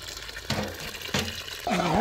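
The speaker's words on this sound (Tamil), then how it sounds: "தேங்காய் பால் ஊற்றி அப்படியே இறக்க போகிறோம்" Coconut milk pours into a simmering Karaikudi-style fish curry, making short gushing, splashing bursts that come in three separate pours and get fuller toward the end.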